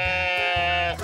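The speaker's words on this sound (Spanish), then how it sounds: "En un momento vieron a unas ovejas, y Kotaro menciona que las ovejas se parecen" A sheep bleats in a long, loud, wavering cry at a zoo in an anime, with a lower rhythmic pulsing beneath it and no talk.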